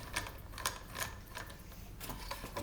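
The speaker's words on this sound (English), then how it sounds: "We'll put our bolt back on the proper side" A bolt fitted back onto a scooter's SCS clamp, a run of quick metallic clicks and ratcheting taps, close and moderately quiet.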